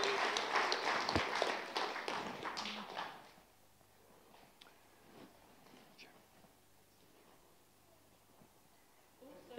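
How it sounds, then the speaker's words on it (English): A church congregation at a Baptist service claps in a dense burst for about three seconds, then the clapping stops and the room falls to quiet murmurs and small noises. "So let's give them a clap one more time"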